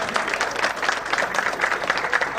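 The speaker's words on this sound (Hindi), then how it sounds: "अभी अपने लिए एक बार ताली बजा दीजिए" Sustained audience applause at a tech day event, dense and steady clapping from a large crowd throughout, loud and close.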